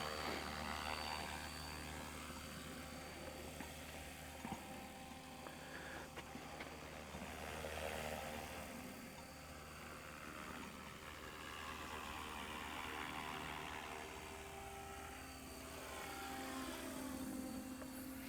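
A small SAB Goblin Buddy 380 RC helicopter's rotor and motor drone steadily throughout, a continuous whirring buzz that swells and fades slightly as it flies.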